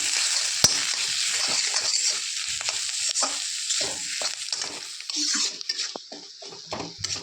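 Aloo paratha filling of potato, salt, turmeric and chopped coriander being mixed in a pan, soft repeated scraping and stirring strokes with a faint sizzle and an occasional sharp clink, close and without talk.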